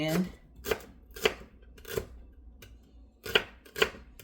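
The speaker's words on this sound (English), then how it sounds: "we're going to cut it up in thin slices" A knife slices celery into thin slices for crab salad, giving six crisp chops on a cutting board at an uneven pace, close and fairly clear against a quiet room.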